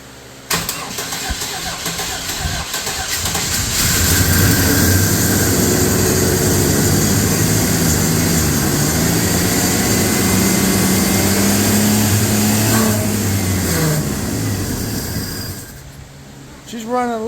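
A 2000 Chevy S10 pickup with a swapped engine cranks briefly, then catches and runs at a loud, steady, fairly high idle for about ten seconds before settling and shutting off.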